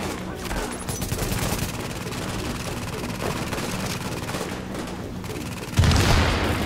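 Sustained gunfire from the video game The Division, a dense continuous fusillade of shots running throughout, with a louder burst near the end.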